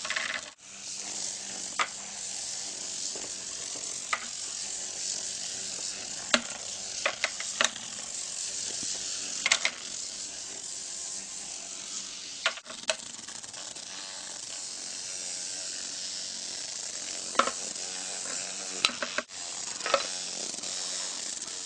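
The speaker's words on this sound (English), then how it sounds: "you've got the battery hooked up, the motor's going, and then more or less just set it down, see what happens" A toothbrush-head Bristlebot robot driven by a small battery-powered vibrating motor buzzes steadily and harshly, with scattered clicks and rattles as it skitters across a surface, close and continuous with no talk.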